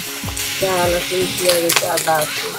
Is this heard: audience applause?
no